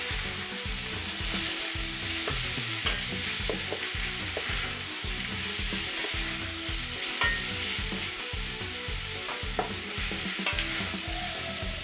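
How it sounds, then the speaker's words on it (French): Onions fry together with beef in a pot for a beef, carrot and potato curry, giving a loud, close, continuous sizzle with a rhythmic stirring scrape repeating about once a second. "On va faire revenir les oignons dans la viande."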